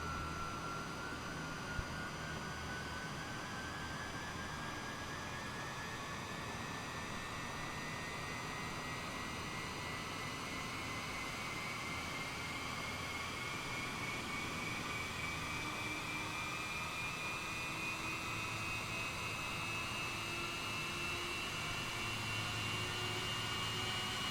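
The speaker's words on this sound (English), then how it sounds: "as you can see the right engine is now turning over" Boeing 787 right engine spooling up during startup in Microsoft Flight Simulator 2020, a steady airy jet whine with slowly rising tones over a broad hiss, fairly faint and continuous without speech.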